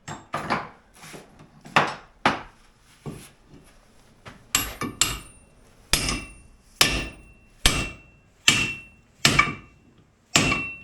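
Hammer blows on a part of a 2003 GMC Envoy, about a dozen sharp metallic strikes in uneven clusters, close and loud with brief quiet gaps between.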